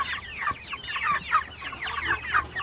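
Young chickens in a barn cluck and chirp in quick, overlapping rhythmic bursts, close and continuous, with no voices.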